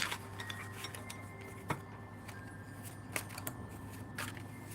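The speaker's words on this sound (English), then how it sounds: "Let me give this a shuffle." Tarot cards being shuffled by hand, a run of quiet, crisp riffles and flicks with a few sharper snaps, close by in a calm room.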